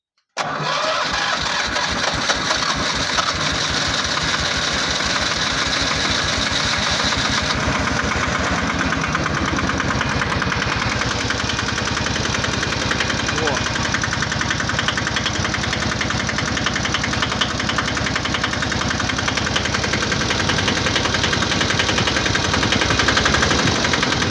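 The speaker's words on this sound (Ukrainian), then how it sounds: "зараз спробуємо знов запустити його. На холодну, рідний стартер" IFA 1VD diesel engine cold-starting at about zero degrees on its original starter with glow plugs, cranking then catching and running with a loud, steady rough clatter throughout.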